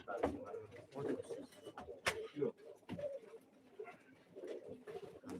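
Pigeons coo at a live pigeon auction, low murmuring calls repeating through the clip amid a busy, cluttered room, with a few sharp knocks and a voice talking in the background.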